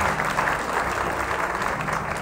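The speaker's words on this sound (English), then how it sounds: "So somebody ought to clap their hands for the life" Congregation clapping hands at a homegoing funeral service, a dense, continuous wash of applause from many people in a hall, steady in level from start to finish.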